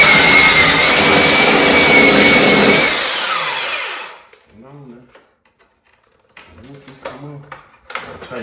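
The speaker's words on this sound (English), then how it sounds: "I'm gonna go up and down to sand it on both sides and see if it works." A power sander runs loudly on a wooden edge during a home remodel, a steady harsh whine for about four seconds before switching off, followed by quiet speech.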